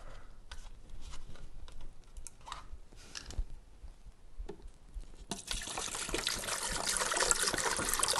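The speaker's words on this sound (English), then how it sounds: "I'm going to go ahead and pour this full gallon of distilled water in there." A gallon of distilled water is poured into the tank of a HuPro Pro-777 ultrasonic humidifier: faint clicks and handling at first, then a sudden steady hiss of trickling, filling water that grows slightly louder.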